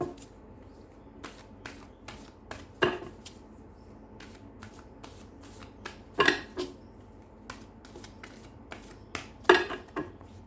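Tarot-style cards being shuffled by hand for a reading, in repeated short riffling bursts with soft rubs and taps between them, close and fairly quiet with no talking.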